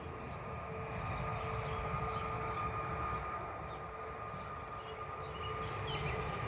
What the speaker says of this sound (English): Oh, they're working on the railroad tracks too.